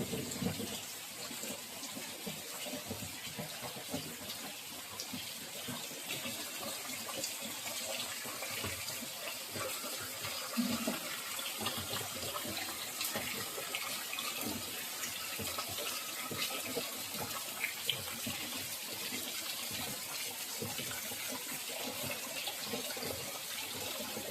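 Running water from a tap splashing and gushing into containers being filled during a power cut, a steady rushing flow that continues throughout with small clatters and splashes.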